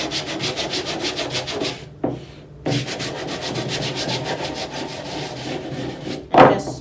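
Sandpaper rubs over a wooden sculpture to smooth it, rapid rhythmic back-and-forth scratching strokes close up, pausing briefly twice before continuing.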